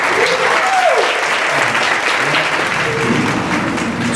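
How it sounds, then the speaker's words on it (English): A crowd at a Silicon Valley mobile industry meetup claps to welcome a speaker, a loud, continuous burst of applause with a faint voice or two murmuring underneath. "Give him a lot of applause."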